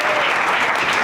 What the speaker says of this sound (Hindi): माँ के लिए जोरदार तालियां